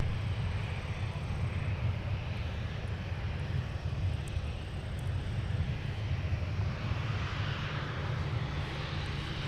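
A fixed-wing airliner at Minneapolis–St. Paul airport gives off a steady, broadband engine roar at moderate distance, unbroken for several seconds with no voices.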